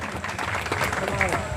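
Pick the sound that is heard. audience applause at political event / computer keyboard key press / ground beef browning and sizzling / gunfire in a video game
audience applause at political event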